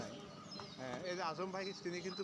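Pigeons coo on a pigeon farm that also keeps ducks and chickens, soft repeated calls heard close by under a person talking.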